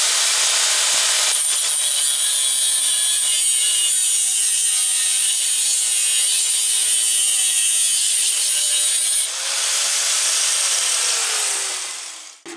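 Close, continuous rasping as a copper plumbing fitting is sawn open in a basement workshop, to be made into a muffler gasket for a military air compressor. The cutting runs steadily for about twelve seconds and changes tone briefly near the end.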